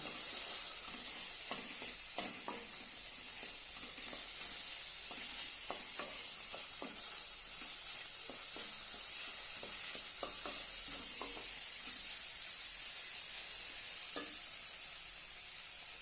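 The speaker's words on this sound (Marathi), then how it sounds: "आता आपण यामध्ये शेंगाने आणि लसूण वाटून घेतलेले आहे ते घालूया ते पण परतून घेऊया" Ground peanut and garlic paste fries in a pan for papad chutney, a steady close sizzle broken by repeated scraping and clicking from a spatula stirring it.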